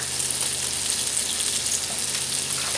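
Liver half-cooking in a hot pan for a Moroccan-style liver in sauce, a loud, close, continuous crackling sizzle with a constant bright hiss and no talking.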